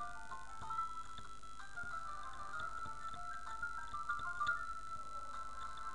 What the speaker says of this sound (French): C'était le cri du Pokémon légendaire, c'est obligé.